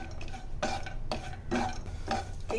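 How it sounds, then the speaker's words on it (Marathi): Cashew, almond and pistachio slices roasting in hot ghee in a pan, stirred with a spoon: a soft ongoing sizzle broken by several scraping stirring strokes at a steady pace, close by, with no voices. "तूप गरम झालं की आपण याच्यात काजू बदाम पिस्त्याचे काप घालूया।"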